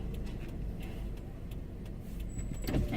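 A car's power window rolls up, a soft motor whir under low cabin rumble, ending in a faint thump as it closes near the close of the stretch.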